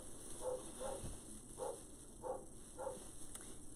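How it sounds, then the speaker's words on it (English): Dogs on a farm bark in the distance, five faint evenly spaced single barks over a quiet indoor background. "And my dogs are barking."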